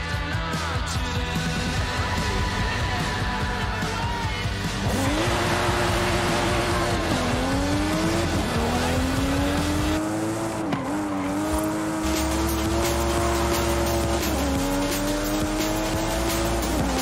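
Race cars in Forza Horizon 5 roar through the whole stretch, their engine notes climbing and dropping with gear shifts, while tires squeal and skid in short bursts over a steady mechanical backdrop.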